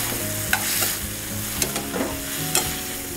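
Fish fillet frying in anchovy oil sizzles steadily in a pan, a continuous hiss broken by a few sharp crackles and pops, close and clear with no talking.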